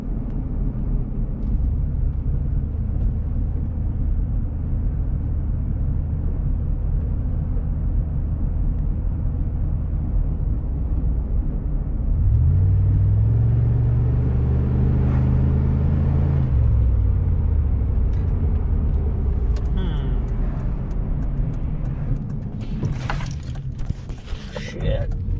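A pickup truck engine running just after a spark plug replacement gives a steady, close, low rumbling idle that swells briefly in the middle as it revs, then settles back.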